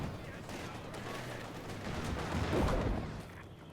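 Distant machine-gun bursts and mortar impacts from Company of Heroes 2, an MG34 and a 120mm mortar, rumble steadily as dense battle noise that swells toward the end.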